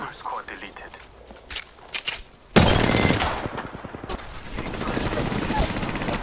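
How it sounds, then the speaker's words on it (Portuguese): Automatic gunfire in Apex Legends, scattered shots followed by a sudden loud sustained burst, then continued rattling fire beneath players talking over voice chat. "Que rajada, mano."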